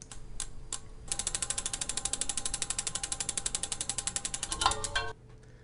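A prize wheel is spun, giving a few slow clicks before a rapid, steady ratcheting run that slows and stops abruptly, close and fairly quiet.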